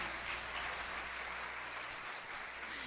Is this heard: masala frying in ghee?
no